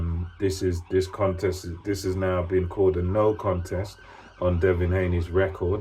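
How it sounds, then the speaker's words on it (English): Emergency vehicle sirens wail in the background beneath a man's continuous speech, rising and falling faintly behind his voice throughout. "Excuse the sirens there."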